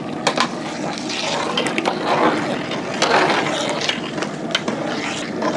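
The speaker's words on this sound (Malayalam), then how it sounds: "അപ്പോൾ നമ്മളെ അരിയൊക്കെ ഇട്ട ശേഷം ഒന്ന് ഇളക്കി കൊടുക്കുക." Rice is stirred in a large copper cooking pot of water for a big batch of Kerala-style Nombu Kanji, giving sloshing, watery scraping and clanking with irregular stirring strokes, close and fairly loud.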